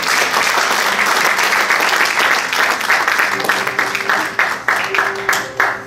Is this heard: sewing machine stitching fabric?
no